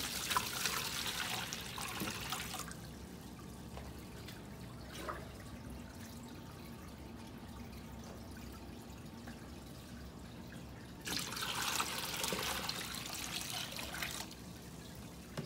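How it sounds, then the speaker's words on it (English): Cold water taken from a fish hatchery tank trickles and pours into a container, a quiet steady dribble that swells into louder gushing bursts at the start and again near the end. "I'm going to take some water from the tank so it's nice and cold and no chlorine, and just put it right in here."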